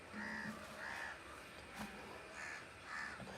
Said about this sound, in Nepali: अनि कागले चाहिँ त्यहाँ गुड राखेर बच्चा निकालिरहेको रहेछ